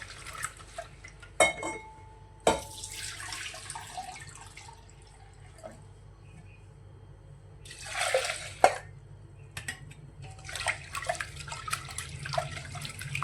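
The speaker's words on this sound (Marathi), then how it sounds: "दोन तीन पाण्याने स्वच्छ धुवून टाकायची आहे" Water splashes and trickles as food is swished and rinsed in a vessel, in a few separate bursts with quiet gaps and light clinks, close by.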